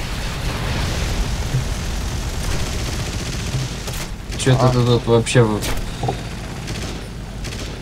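Aircraft machine gun fire in an air combat video game, a steady rattling fusillade with booms running under the clip, while someone talks briefly over it near the end.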